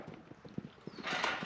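A horse's hooves clop softly on the ground of a round pen, a few faint uneven steps, followed by a louder rushing noise.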